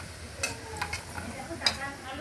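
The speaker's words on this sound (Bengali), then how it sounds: "এবার লবণ হলুদ দিয়ে আলুগুলো খুব ভালো করে ভেজে নেব।" Potatoes frying in oil with salt and turmeric, a soft low sizzle with a few brief stirring scrapes, quiet and close, with no talk.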